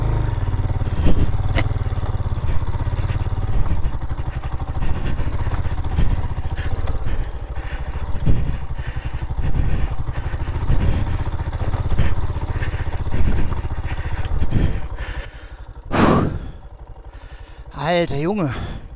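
Royal Enfield Himalayan motorcycle engine running steadily near the microphone as the bike pulls off in first gear on a French trail, rumbling with clatter and wind, then a rev rise near the end, with a voice talking over it.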